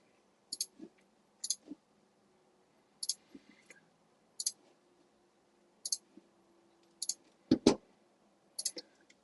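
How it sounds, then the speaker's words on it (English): A computer mouse clicking in ship design software, heard as sharp, close double clicks repeating in pairs roughly every second or so over a faint background hum, with one louder thump near the end. "So it's always clicking in the middle and clicking create."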